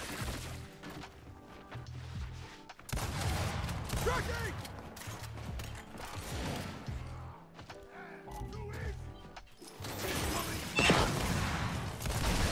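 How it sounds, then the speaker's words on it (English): Gunfire from a ranked free-for-all match in the video game Gears 5, with bursts of shots and impact crashes running throughout at steady loudness, mixed with game mechanisms and effects. "I didn't expect my shots to go way over cover like that."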